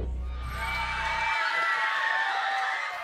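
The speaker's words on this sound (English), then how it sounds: "When Ty Brightlow walks in the room, his students cheer" Students cheering as their principal enters a school room, a loud sustained crowd of children's voices whooping and shouting throughout.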